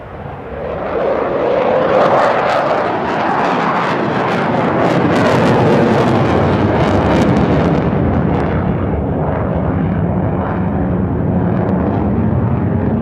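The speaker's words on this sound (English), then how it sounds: "the aircraft is going to execute the takeoff to dirty roll to the half Cuban 8" A display aircraft at the 2022 National Championship Air Races takes off for a roll and half Cuban 8 routine, its engine a loud, steady, broad roar that holds for the whole stretch with wind buffeting and no voices.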